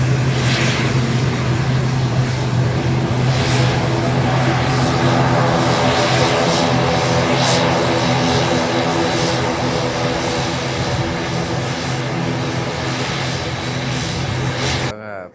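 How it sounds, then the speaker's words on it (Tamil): A loud, steady roar of an airplane's engines fills the air as it lands at Palali airport in Jaffna, with a continuous propeller-like drone throughout. "ஃப்ளைட் லேண்ட் ஆகிட்டு வர போகிறாங்க."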